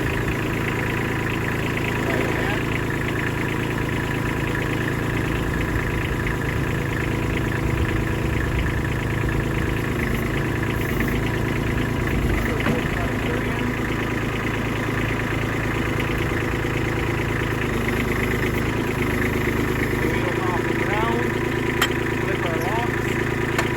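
A Kubota B2601 compact tractor engine runs at a steady idle, a constant close rumble throughout, with a voice talking over it now and then.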